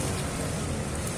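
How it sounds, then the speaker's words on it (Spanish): Heavy rain pours steadily over the Siloé neighborhood on an afternoon, a dense, even hiss with no voices. "Se reinicia la lluvia acá en la barriada de Siloé"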